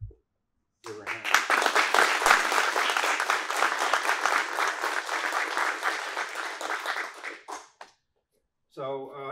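Audience applause at a Muay Thai black belt test, steady dense clapping for several seconds that then fades out, followed by a short spoken voice.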